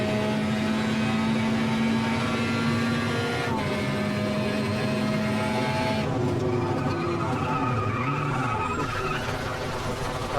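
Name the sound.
Ultima GTR race car engine in the video game Automobilista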